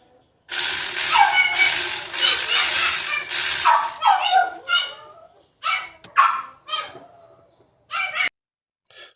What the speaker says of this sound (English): The dog kept barking, so I decided to do a voiceover.